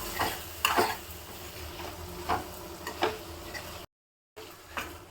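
Mutton liver fries in a pan with salt, chilli and masala, a soft steady sizzle broken by occasional sharp stirring clinks and scrapes, with one brief dropout.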